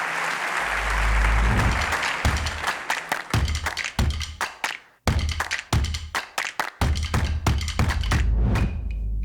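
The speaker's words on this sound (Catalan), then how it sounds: "un fort aplaudiment" Audience applause at an education conference, starting as dense clapping and thinning into scattered, individual claps with a brief pause midway before picking up again.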